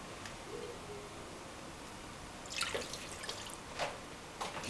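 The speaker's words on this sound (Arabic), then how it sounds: "دابا كنزيدو الماء" Water poured into a pot of Moroccan seffa vermicelli during cooking, heard as a few close splashes and drips over quiet kitchen background, without talking.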